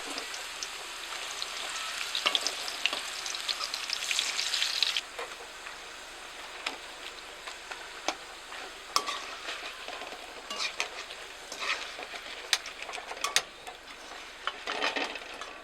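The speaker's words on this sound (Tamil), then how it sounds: "பின் கடாயில் எண்ணெய் ஊற்றி காய்ந்ததும் கிழங்கு சீவலை சிறிது சிறிதாக போட்டு பொன்னிறமாக பொரித்து எடுக்கவும்." Thin tapioca (cassava) slices deep frying in hot oil in a pan for crispy chips, a steady loud sizzle with bubbling crackle and occasional stirring scrapes, easing slightly after the first few seconds, no voices.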